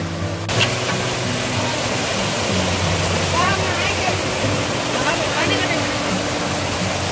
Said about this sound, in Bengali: দেখো জলটা ঠিক ওইখান দিয়ে আসছে, ওইখান দিয়ে এসে এই নিচ দিয়ে বেরোচ্ছে।